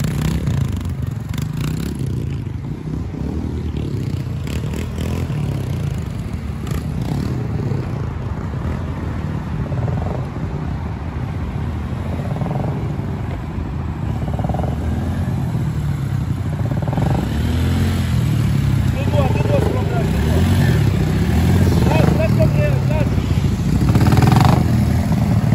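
A motorcycle at a riding training session pulls away as the clutch is released, a steady low engine drone that slowly builds, with light clatter over the running motor.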